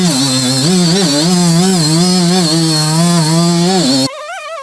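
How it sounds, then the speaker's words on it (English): A Milwaukee M12 die grinder sands stainless steel on an old dishwasher, a loud, close, high-pitched whine with wavering pitch as it loads under pressure, then dropping away at the end. "So let's try sanding this stainless here and see what happens"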